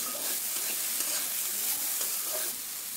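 Vegetables with salt and turmeric being stirred in a hot pan for semiya upma, a steady close sizzle of frying with soft scraping strokes throughout, no voices.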